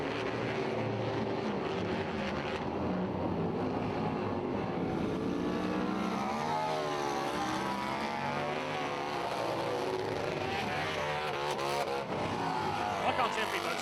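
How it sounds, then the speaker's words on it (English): Big flat track racing motorcycles roar around the Adrian Flux Arena oval at King's Lynn, engines rising and falling continuously as they pass, with a commentator talking over the noise throughout. "Just listen to these beautiful big bikes around the Adrian Flux Arena."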